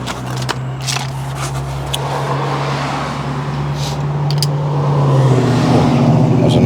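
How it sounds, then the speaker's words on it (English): A Chevrolet step-side pickup truck drives past outdoors, its engine rumbling steadily and growing louder toward the end, with ambient street noise and a few faint clicks nearby. "That was a nice Chevy step-side truck just went past."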